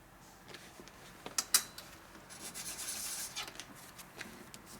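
Close, light scraping of a file across the edge of a Sportster 1200 piston ring to remove a burr, a few soft rubbing strokes with a brief sharper scrape, no voices.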